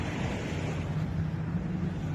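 Sea waves wash steadily behind a house in a desert coastal setting, a continuous broad rushing surf with some wind noise, fairly close and with no voices.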